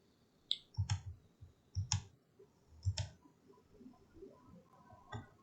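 Mouse clicks at a computer running CAD design software, three or four crisp close clicks spaced about a second apart over a faint hiss, with no one speaking.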